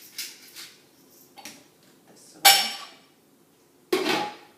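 Chili stirred in a crock pot with a chopping tool, giving several separate scraping clinks and knocks of utensil against the pot, two of them sharper and louder, with quiet gaps between.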